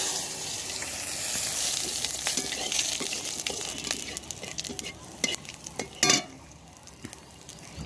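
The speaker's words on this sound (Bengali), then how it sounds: "এখন এটা আমি ফোড়ন দিয়ে দিচ্ছি।" Cardamom, cinnamon, cloves, cumin and two dried red chillies sizzling in hot oil in a kadai: a steady, loud hiss with scattered crackles and pops and one sharper burst near the end, no voices.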